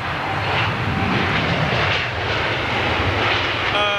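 Steady, loud roar of aircraft engines near runway 27 right at London Heathrow, a broad continuous rumble with no breaks and no talk.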